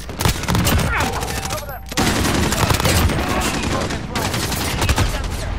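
Dense automatic gunfire in Call of Duty Modern Warfare multiplayer, bursts of rapid shots with a short pause near the two-second mark, loud and close, with voices underneath.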